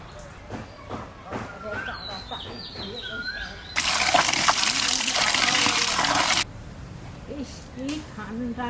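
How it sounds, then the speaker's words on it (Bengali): Water gushes from a tap for about three seconds while fresh green gourd leaves are washed. It is loud and close, set between quieter stretches with birdsong and a voice talking outdoors. "আমি এই কাঁচা কাঁচা সবুজ সবুজ পাতা কয়টারে ধুয়ে লইয়া আসি"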